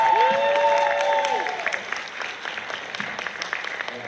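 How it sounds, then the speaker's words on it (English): Concert audience applause fills the hall at first, overlapping a sustained tonal note, then thins into scattered, softer clapping toward the end. "please clap."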